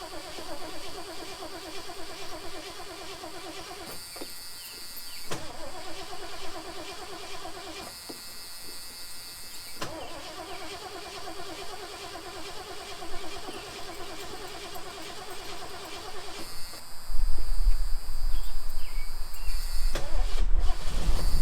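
A Willys car at the Hot Rod Power Tour cranks and starts, then runs with a steady rough engine note and swells of revving. A louder, deeper rumble builds near the end.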